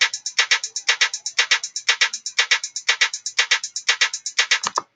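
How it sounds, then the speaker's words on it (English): A programmed drum beat with rapid snare hits in 16th-note pairs, crisp and evenly spaced in a steady loop, played alone with no talking. "I'm just saying those snare hits are not 8th notes."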